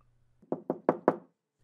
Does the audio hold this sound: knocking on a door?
yes